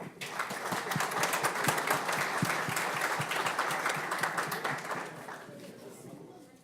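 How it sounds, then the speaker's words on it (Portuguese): Audience applause at a forum event, a dense, steady round of clapping from a seated crowd that holds for several seconds and then thins and fades toward the end. "Uma salva de palmas."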